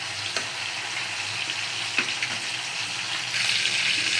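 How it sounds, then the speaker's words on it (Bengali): A rohu fish head fries in hot oil, a close, steady hiss and crackle with a few sharper spits, swelling a little louder near the end. "এদিকে মাছের মাথাটা ভেজে নিই।"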